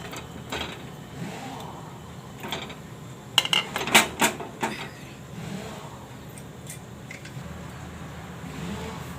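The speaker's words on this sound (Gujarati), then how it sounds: "તો આપણે એમાં બટેટા આપણે ઓરી દેવું" Washed potatoes dropped into hot water in a pressure cooker: a short cluster of clattering knocks and splashy thuds near the middle, set against a steady low kitchen hum.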